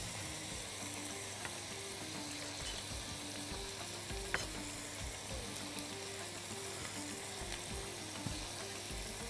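Chopped liver fries in a pan with a steady, even sizzle and crackle, continuous and faint, with a slight clink partway through.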